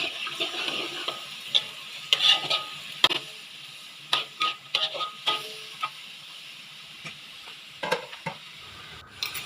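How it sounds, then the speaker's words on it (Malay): Chopped onions sautéing in a pan for stuffed fried tofu, a steady sizzle under repeated scraping stirs and occasional utensil taps against the pan, close and fairly loud, with no voices. "kita masukkan bawang yang telah dicincang tadi dan tumis sehingga warnanya keemasan"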